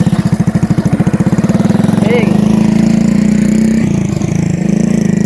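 A motorcycle engine runs steadily close by, its low throb starting choppy and pulsing before smoothing into a continuous drone, with a faint voice briefly over it.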